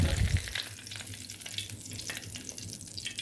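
An egg fries in a pan with a dense, continuous crackling sizzle, slightly louder at the very start, then holding steady and close throughout.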